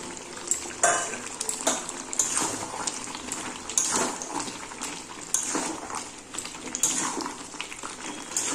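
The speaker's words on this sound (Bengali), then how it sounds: "এবার আমি এর মধ্যে আলুটা দিয়ে দেব যে আলুটা আমি আগে থেকে ভেজে রেখেছিলাম" Fried potatoes tipped into a pan of simmering chicken curry, wet bubbling and gurgling with scraping clatter of pot and spoon, fairly loud and close with bursts of sizzle.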